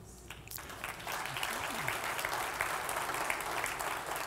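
A church audience breaks into applause, a dense, sustained patter of many hands clapping that swells after a brief lull and carries on steadily through the room.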